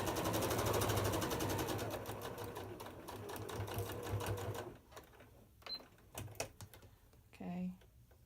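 A sewing machine chain stitches quilt pieces for a quarter-curve circle block, running steadily and close for several seconds before stopping, followed by a few clicks and handling noises.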